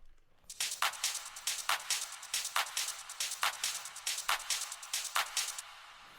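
Techno top percussion loop from a sample pack, a fast, busy run of bright hi-hat and shaker-like hits with accented louder strikes, playing steadily and alone before cutting off near the end.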